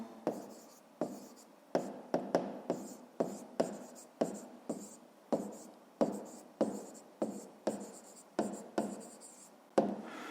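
Pen strokes scratch across paper as a Grade 5 maths exercise answer is written out by hand, a steady series of short, close scribbles with brief pauses between them.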